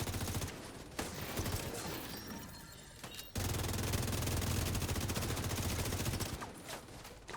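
Dense, sustained video game gunfire crackles in rapid bursts, briefly dropping to a lull before a louder, continuous barrage resumes and then tapers off.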